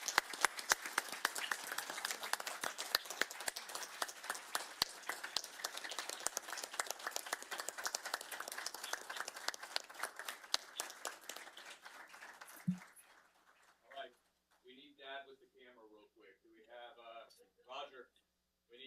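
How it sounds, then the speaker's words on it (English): Steady round of applause from attendees at a county board of supervisors meeting, continuous clapping for about thirteen seconds that stops abruptly, followed by scattered talking. "And now let's give Kelly a round of applause."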